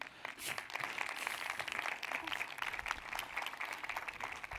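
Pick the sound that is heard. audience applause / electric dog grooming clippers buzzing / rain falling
audience applause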